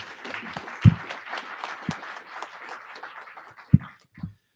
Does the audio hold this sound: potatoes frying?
no